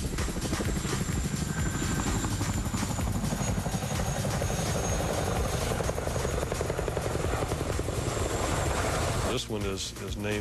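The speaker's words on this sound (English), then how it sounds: "Tandem rotors, a loading ramp in the tail, and the ability to carry heavy loads slung underneath makes the Chinook the most versatile military" Chinook tandem-rotor military helicopter, loud continuous rapid rotor chop and engine roar, close and steady throughout, with a voice talking over it near the end.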